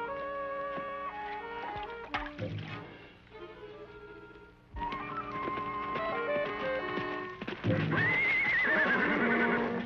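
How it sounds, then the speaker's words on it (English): A horse whinnies and its hooves clip-clop near a barn in an old Western TV episode, heard over a continuous bed of background music with louder swells toward the end. "Dave, put his horse in the barn"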